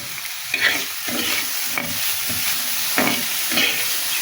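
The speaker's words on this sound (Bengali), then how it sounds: "আমি ডুমোরটা সুন্দর করে ভেজে নিলাম" Fig pieces with turmeric and chili fry in a pan, a steady close sizzle broken by repeated scraping stirs every second or so, with no voices.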